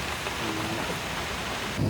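Steady rain hiss with a low thunder rumble swelling near the end, heard outdoors near Mammoth Caves, with no voices.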